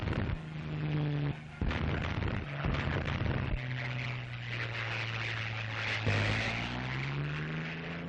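A wartime anti-tank gun called the Tank Buster fires in a few heavy bursts, separated by short gaps, over a droning engine-like background.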